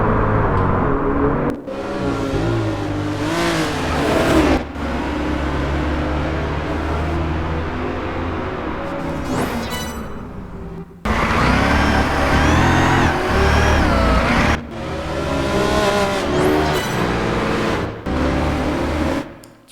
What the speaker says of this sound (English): You hear that supercharger whine